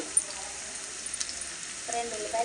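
Sliced onions fry in a pan as the base of a Godavari-style fish curry, making a brief, steady sizzle at moderate volume with a slight rise in bubbling toward the end.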